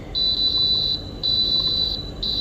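The timer on a Cafemasy hot air coffee roaster, preheated for a 200 g batch, sounds three sustained high electronic beeps, the first two long and the last one cut short, loud and close.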